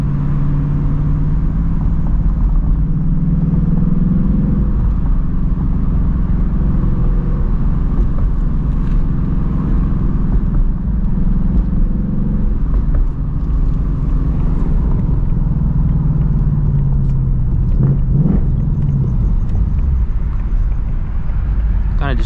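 A 2024 Mustang GT drives through a city at night, its engine a steady low rumble with road and wind noise throughout, close and continuous.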